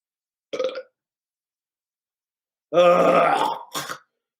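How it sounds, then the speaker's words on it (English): A person lets out a short grunt, then a long, loud, wet stomach-acid burp followed by a brief trailing croak, all close and isolated against silence. "Oh, stomach acid burp."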